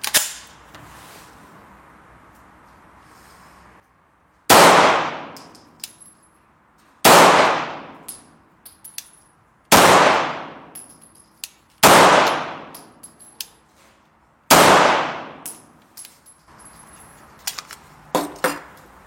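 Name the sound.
Walther PDP-F Compact pistol being fired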